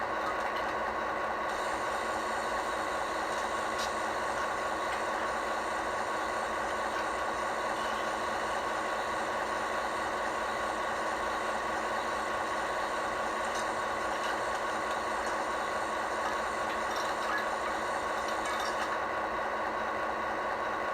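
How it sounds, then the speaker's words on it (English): Athearn Genesis MP15AC model locomotive with a Tsunami 2 sound decoder playing its fuel loading sequence: a steady mechanical idle hum with rattling and hissing runs continuously and evenly throughout, with no voices. "F17 is our fuel loading sequence."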